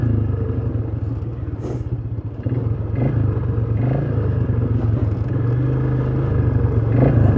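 A Polaris Magnum 330 ATV drives along a dirt trail, its engine droning steadily close by with rattling and clatter over bumps, and the pitch rises a little as it speeds up.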